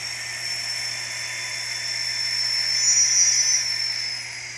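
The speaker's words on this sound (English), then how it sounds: "hear that prime mover throttling up" An N scale ScaleTrains SD40T-2 model locomotive plays its prime mover sound while throttling up: a thin, steady electronic whine and hum that swells gradually louder, then fades slightly.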